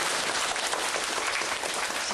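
Sustained audience applause at a community class sharing session in Xinying, steady dense clapping throughout with no talk over it.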